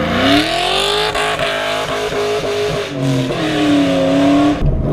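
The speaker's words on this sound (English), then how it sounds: "I'm barely even touching the throttle and this thing's already taken off on me" A naturally aspirated 400-horsepower Ford Mustang GT 2V pulls hard in first gear, the V8 roaring loud and close as its pitch climbs, dips with a shift-like break, then swells again before cutting off abruptly.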